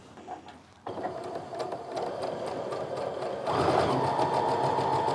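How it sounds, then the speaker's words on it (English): Nearby home sewing machine stitching a quilt seam, a steady fast mechanical whir that speeds up and grows louder partway through and keeps running to the end. "So that way I can sew all the way down to here"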